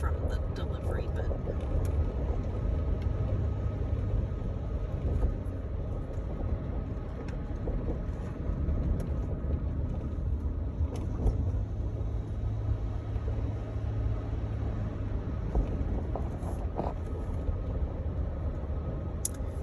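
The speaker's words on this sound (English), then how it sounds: "so I drive this old Toyota Sienna van. 2013 is the year" A 2013 Toyota Sienna van driving uphill on a mountain road, steady low engine and road rumble heard from inside the cabin, constant and moderately quiet with no talk.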